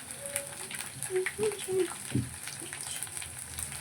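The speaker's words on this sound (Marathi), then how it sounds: "याला असं थोडं खरपूस भाजून घ्यायचं" Chickpea greens sizzle and crackle softly as they roast in a pan with a little salt, a steady close frying hiss under a few faint clinks and brief scraping stirs.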